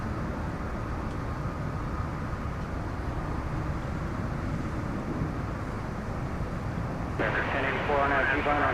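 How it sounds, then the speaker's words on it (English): An American Airlines Airbus A321 at DFW Airport at night gives a steady, broad jet roar with faint voices mixed in, then turns brighter and louder toward the end. "You're seeing an American Airlines Airbus A321 in the foreground there."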